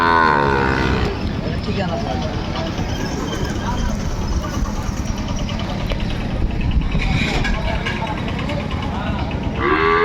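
Cattle at a busy Thursday livestock market in Jamalpur, with Sahiwal bulls and heifer calves, low lowing moos rising over a dense crowd din, louder near the start and end, with people talking throughout.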